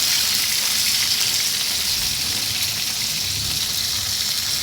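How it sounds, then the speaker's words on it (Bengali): Pieces of snakehead fish frying in hot oil, a loud, steady, close crackling sizzle that runs unbroken throughout with no voices. "মাছগুলোকে ভালোভাবে ভেজে দিব লাল লাল করে।"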